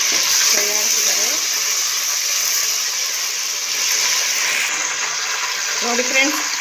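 Coriander and mint frying in hot oil for a chicken fry tempering, giving a steady, close sizzle that runs throughout, with brief clinks and scraping of a utensil in the pan.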